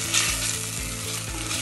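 Onions for mushroom biryani frying in a pan, a loud, steady hiss and sizzle with faint rhythmic stirring scrapes and no talking.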